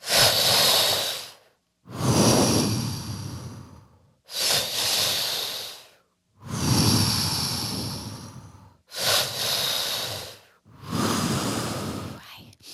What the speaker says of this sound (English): The breath pattern is, the first breath is into the belly, up into the chest, out through the mouth.